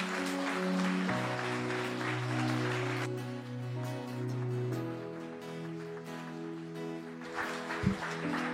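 A church congregation applauds during a morning service, a steady wash of clapping that rises and falls over sustained keyboard or organ chords for most of the stretch.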